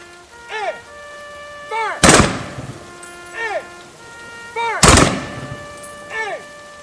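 A 21 gun salute rifle volley: two loud, sharp cracks a few seconds apart, each ringing out briefly, with rising and falling whistling tones sounding between them.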